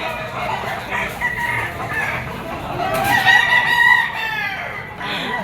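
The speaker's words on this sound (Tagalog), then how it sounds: "Laking manok." A rooster crows loudly nearby, one long drawn-out call, over a busy background of clucking fowl and outdoor noise at a poultry market in Padre Garcia, Batangas.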